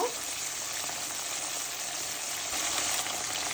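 Water poured into a pan of spices with cumin for cabbage and beef curry sets off a loud, steady, hissing sizzle that fills the clip without pause, up close and without talk.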